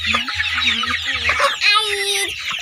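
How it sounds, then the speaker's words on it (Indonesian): Chickens cluck close by in short, repeated bursts, with a rooster-like call rising briefly near the end; no talking. "Ayam-ayam adalah salah satu jenis binatang darat."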